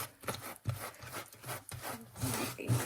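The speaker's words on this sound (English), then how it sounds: "You're going to want to use a silicone scraper like this or a spatula." A silicone scraper working around the sides of a bowl of runny concrete mix, making repeated close, gritty rubbing strokes in an uneven rhythm; no talking.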